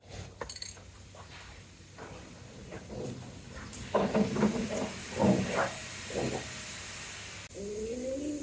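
Rust-Oleum clear coat is sprayed from an aerosol can onto a restored McCormick-Deering hand-crank corn sheller, giving short and longer hissing bursts with brief pauses and some handling clatter nearby.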